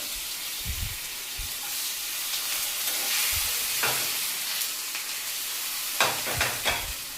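Jitada fish frying in a covered pan, a steady soft sizzle with a few scraping knocks as the fish is turned over, close up.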